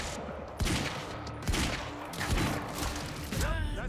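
Rapid bursts of gunfire from the Quantum Break video game crack out repeatedly, loud and close, with game sounds layered around them.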